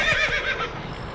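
A horse in The Witcher 3 video game gives a single loud, close whinny lasting about a second, rising then falling away.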